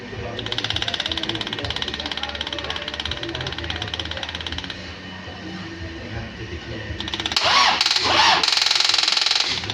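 A Nissan Panther diesel engine churns and sputters as it is cranked, a steady rough mechanical drone that grows louder and harsher toward the end, with voices talking over it.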